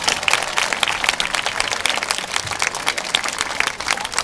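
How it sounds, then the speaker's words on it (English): Audience applause at an award ceremony, a sustained, dense wash of many hands clapping in a hall, steady and moderately loud throughout with no speech over it. "Let's give another round of applause to Caitlin West."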